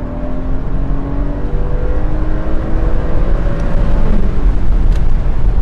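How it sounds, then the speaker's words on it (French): Porsche Boxster S 986 with a naturally aspirated engine, heard as a steady, loud engine drone with rising harmonic tones as it climbs through the revs, close and continuous with no talking. "on a un moteur atmosphérique, donc du coup tout se passe très haut dans les tours. Ça monte jusqu'à 7000 tours minute."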